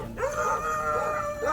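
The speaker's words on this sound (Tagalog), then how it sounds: "May aso." A dog in a forest area barks and then breaks into a rising howl, loud and close, lasting about a second and a half.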